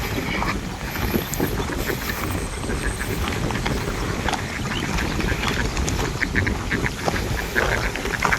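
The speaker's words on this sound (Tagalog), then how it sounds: "Ayan yung mga itik dito." Ducks kept at a duck farm beside a fish pond quack in scattered calls, mixed with a wide outdoor rumble and wind buffeting the microphone.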